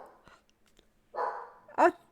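A dog at home gives two short barks, a muffled woof followed by a sharper, louder bark, close by, amid faint background sounds and a bit of talking.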